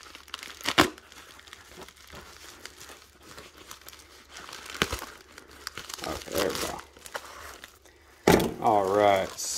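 A cardboard eBay shipping package holding Pokemon card packs being cut and torn open, with crinkling and ripping bursts scattered through the stretch, ending in a louder, sustained tear; a voice talks briefly in between.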